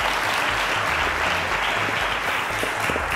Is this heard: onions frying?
no